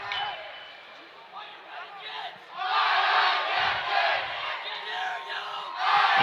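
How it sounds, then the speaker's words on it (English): Hudson hockey crowd at a 2016 WIAA tournament game against Waukesha, chanting and cheering under a cheerleader's lead, swelling from scattered voices into a loud rhythmic roar with rowdy shouts, heard from within the arena. "As the Hudson crowd starts to get going here a little bit."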